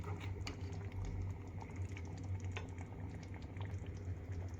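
Chicken biryani cooking in a pot, giving a steady close bubbling simmer with a low rumbling undertone and scattered small pops, continuous and alone without any talking.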